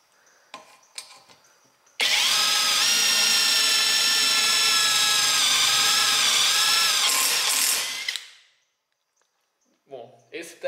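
Power drill boring steadily with a drill bit, a loud continuous whine for about six seconds that stops abruptly; faint clicks and handling before and after.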